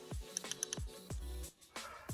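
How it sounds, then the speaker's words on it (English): Knocking clatter of a BMW N55 connecting rod sliding back and forth on its floating wrist pin during a teardown of an engine with a failed rod bearing, a quick series of close, sharp taps with short gaps. "that's what you hear is basically the rod moving back and forth on the wrist pin"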